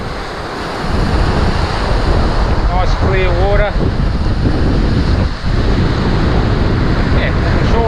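A strong southeasterly wind of around 30 knots roars across the microphone at East Woody Beach in East Arnhem Land, with constant surf beneath it and a short spoken remark partway through.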